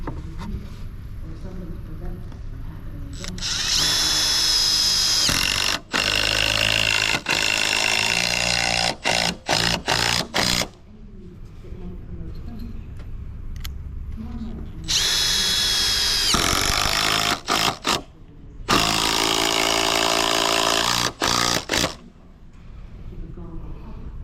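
A power drill driving screws into wood while prepping a slab for concrete, with long loud whirring bursts broken by short stops and brief restarts, near and dominant, with someone speaking in the gaps.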